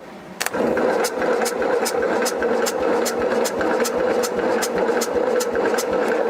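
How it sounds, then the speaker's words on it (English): A BMW Isetta on a 12-volt battery, cranking slowly on its first start in 40 years after being rescued from the woods: a steady, sluggish starter churn with regular rhythmic compression pulses, close and loud, throughout. "Not turning over very fast either, like you'd think it would with the 12 volt."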